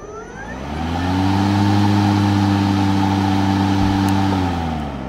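An EGO 56V Speed IQ Select Cut XP self-propelled lawn mower runs in turbo mode. Its steady, loud motor hum builds over the first second and a half, holds level, then eases slightly at the end.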